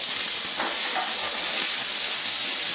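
Garlic and asparagus sizzle hard in a hot wok, a loud, dense, continuous frying hiss with faint stirring knocks underneath and no talking.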